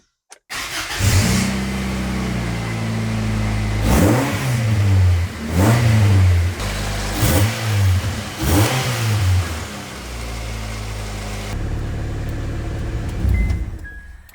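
A 1994–97 Honda Accord starts up with a newly installed race header, idling loudly, then revved repeatedly in four or five rising bursts before settling back to a steady idle, close and with no talk.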